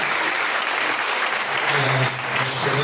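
A church congregation applauds during a Christmas Eve service, a loud, dense and sustained wash of clapping that fills the room throughout, with a voice briefly audible beneath it.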